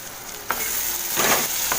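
Onion-coconut masala paste sautéing in oil, close and fairly loud: a continuous sizzle that swells with three spatula strokes through the paste.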